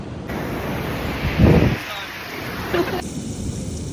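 Ocean surf on a beach in northern Spain washes ashore in a steady hiss, with one surge of breaking water midway and wind buffeting the microphone.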